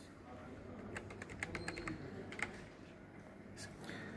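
Keys tapped on a computer keyboard while entering a one-time passcode into a login portal, a string of quiet, irregular clicks with a few sharper strokes over faint background hiss.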